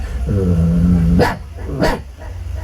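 A voice imitates a dog during a mimicry comedy act at a temple festival in Moguluru, giving a drawn-out whining growl followed by two sharp barks, loud and close.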